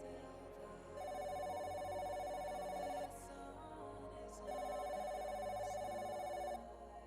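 A telephone rings with a steady electronic trill in two long bursts separated by a short pause, clear and close over a low background hum, with no voices.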